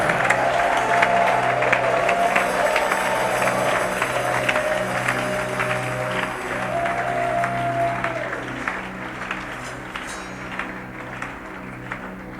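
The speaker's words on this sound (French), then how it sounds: "Give the Lord a clap and a shout." A church congregation at a mega church in Mampong, Ghana applauds and cheers steadily for the whole stretch, dense clapping and crowd noise with a low rumble of voices beneath.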